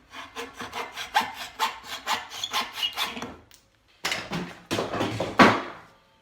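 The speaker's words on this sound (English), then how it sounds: "Just take this little small piece and hacksaw it off." Hacksaw cutting a small piece of wood by hand, a steady rhythm of close rasping back-and-forth strokes, a short pause, then a few more quicker strokes finishing the cut.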